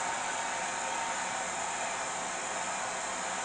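A heat gun or blow dryer blows hot air over freshly poured paint, a steady, even hiss of airflow that stays constant and fairly quiet throughout.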